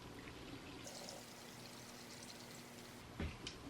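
Water poured steadily into a pot of clay Leca balls for a houseplant, a close, continuous trickling rush that ends with a couple of soft knocks.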